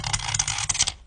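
A razor blade scrapes across the stainless steel frame of an iPhone 11 Pro in a short run of harsh, gritty scratching strokes, close and fairly loud, with no speech.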